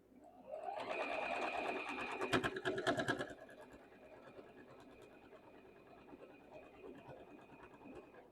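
A sewing machine runs a short burst of double stitching back over a seam on a pair of overalls, a steady close whir for about three seconds before stopping, followed by quiet room noise.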